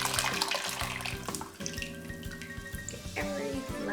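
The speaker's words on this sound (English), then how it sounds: "So I'm literally pouring in the tea inside of here." Organic black tea is poured into a Rebel machine, making a continuous splashing, gurgling stream of liquid up close that lasts the whole few seconds, with a tonal hum underneath.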